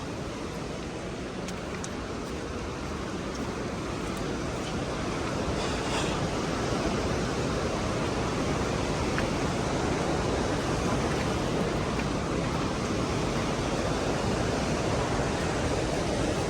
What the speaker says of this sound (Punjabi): ਇੱਧਰ ਜਿਹੜੀ ਨਦੀ ਆ